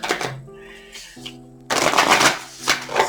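Astrology oracle cards being shuffled by hand: quick crisp riffling bursts with short pauses between, close and fairly loud, while a faint tonal sound plays underneath.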